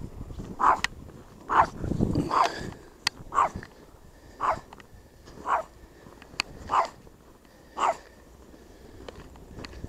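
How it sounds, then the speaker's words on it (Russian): A small dog barks in a steady series of sharp, close yips spaced about a second apart, with a brief louder scuffle in the middle and no voices. "Это специально, видите, лает маленькая."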